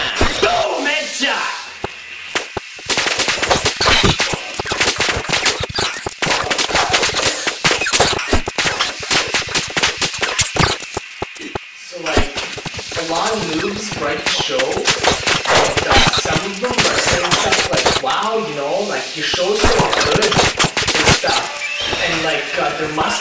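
Dense, loud gunfire rattles almost without pause through a World of Warcraft fight in Winterspring, with shots layered over each other and a voice speaking and shouting throughout.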